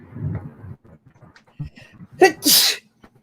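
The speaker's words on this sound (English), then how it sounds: "I feel a sneeze coming on." A single loud sneeze with a sharp intake and explosive burst, preceded by soft murmuring and small sounds in a quiet room.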